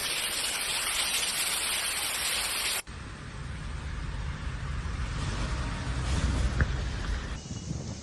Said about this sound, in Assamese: মুঠতে মুখলধাৰ বৰষুণে মুম্বাইত সৃষ্টি কৰিছে অবৰ্ণনীয় পৰিস্থিতি।